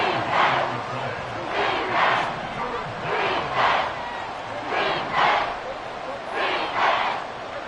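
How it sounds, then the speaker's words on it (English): A packed Arrowhead stadium crowd roars in a Madden football video game, swelling in repeated loud surges of cheering and yelling that rise and fall roughly every second and a half, with no commentary over it. "The Arrowhead crowd in full roar"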